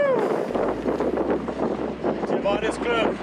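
Strong gusting wind roars steadily across the microphone at Kloof Dam near Franschhoek Pass on a cape road trip, loud and close throughout, with a voice faintly heard under the buffeting.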